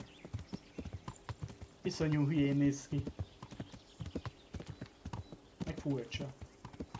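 A horse ridden in the video game Kingdom Come: Deliverance produces steady, rhythmic clip-clop hoofbeats throughout, with a brief whinny partway through, while someone talks over the footsteps.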